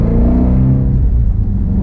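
Ford Mustang Shelby GT350R engine heard from inside while driving, a loud, steady low rumble with a rising drone, close and alone.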